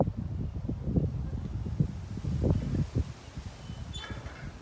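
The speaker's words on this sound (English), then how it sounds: "As you can probably hear right now, it's still windy as heck." Strong gusty wind blowing outdoors in the aftermath of a cold front that brought lightning and high winds across Texas, a steady low roar with surging gusts rustling nearby, no voice heard.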